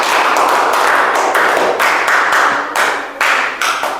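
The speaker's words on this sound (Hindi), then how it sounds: "एक जोरदार ताली होना चाहिए।" Loud classroom clapping: a group applauding in brisk bursts of sharp slaps, close and continuous for about four seconds with brief dips between volleys.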